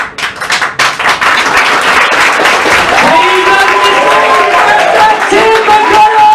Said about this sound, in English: Start clapping.